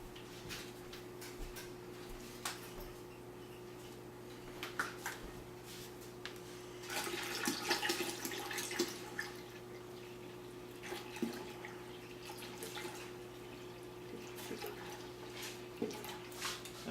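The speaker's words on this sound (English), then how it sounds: "So I add another half a gallon or so of water." Water pours into a 6.5-gallon wine-making bucket as about half a gallon more is added, giving a steady, soft splashing wash that swells in the middle and stays fairly quiet throughout with no talk.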